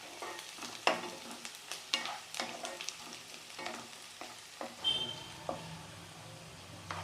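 Onions and green chillies sautéing in a pan for poha upma, with a soft continuous sizzle broken by repeated scraping stirs of a spoon against the pan, close and clear.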